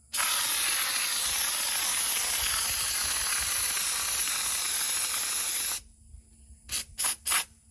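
A long, loud, continuous hiss of spray foam on a solar kiln, close by, stopping abruptly and followed by three quick short spurts.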